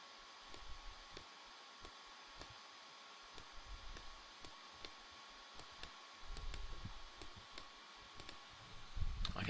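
A computer mouse clicks again and again while working in After Effects, each click sharp, light and close, spaced unevenly against a faint hum, with some soft rustling near the end.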